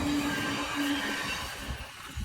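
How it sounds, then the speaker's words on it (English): A train rumbling past close by, a broad rolling roar with a brief high squeal early on, fading slightly toward the end. "the train decides to come right past as I start recording"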